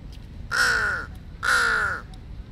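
Two loud, harsh crow caws ring out one after another, each about half a second long, over a quiet outdoor background in Thailand.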